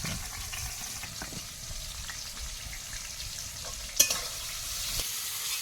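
Eggplant frying in a hot pan gives a steady, soft sizzle throughout, with light scraping and one sharp clack near the end; no talking.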